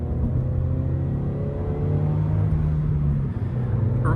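A Toyota GR86 engine drones steadily from inside the moving car, a loud continuous low rumble with a faint rising whine, with no voices over it.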